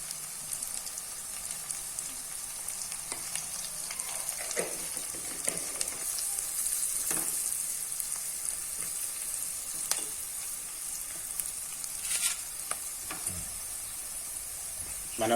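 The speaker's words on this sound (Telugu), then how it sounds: "బాగా ఫ్రై అయిన తర్వాత పచ్చిమిర్చి వేసుకుందాము" Onions, green chillies and turmeric frying in a pan, a steady close sizzle and crackle with occasional light stirring taps running continuously without talk.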